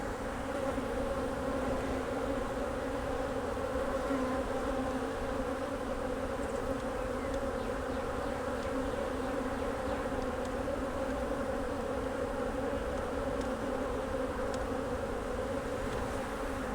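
Honeybees crowd around a hive during robbing with a dense, steady, moderately faint buzz of many insects that never stops and has no talk over it.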